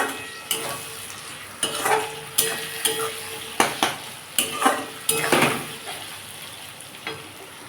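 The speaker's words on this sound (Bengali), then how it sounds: "আমার পেঁয়াজটা অনেকটাই ভাজা হয়ে গেছে আমি আদা রসুনের পেস্টটা দিয়ে দেবো" Onions with ginger garlic paste fry in a pan for an egg dish, a steady sizzle punctuated by about ten sharp scrapes and clinks of a spatula stirring against the metal at an uneven rhythm.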